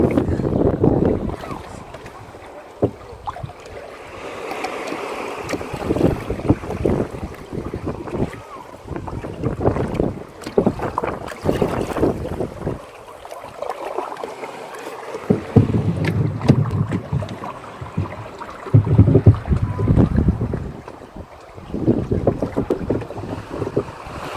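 A boat motors across open water toward Wasini Island, Kenya, its engine droning beneath gusty wind buffeting the microphone and splashing waves, with occasional voices in the background.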